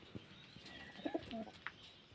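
Domestic pigeons in a loft give a few soft, brief coos, faint against a quiet background with no talking.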